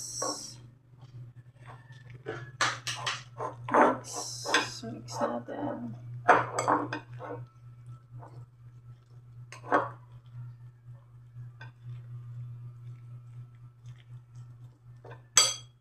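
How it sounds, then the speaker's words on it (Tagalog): An egg being beaten in a bowl, with repeated clinks and scrapes of utensil against dish in irregular bursts over a steady low hum, loudest in the first half and then fading to sparser taps. "lagyan natin ang itlog. Tapos mix natin."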